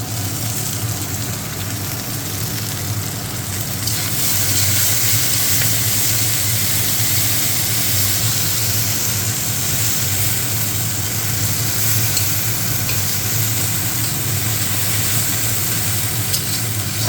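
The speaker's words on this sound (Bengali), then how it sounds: "পেঁয়াজগুলো কুচি কুচি করে কেটে নিয়েছিলাম, দিয়ে দিচ্ছি।" Chopped onions fry in hot oil in a pan for an okra bhaji, a loud, steady sizzle with constant hiss and a low rumble underneath that grows slightly fuller partway through.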